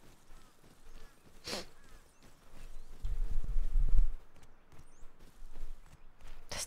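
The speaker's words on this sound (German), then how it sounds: "Zweite Pferd." A horse in the video game Rust clip-clops with irregular hoofbeats at middle distance, a sharp tap and a heavier low thudding stretch, with no talk.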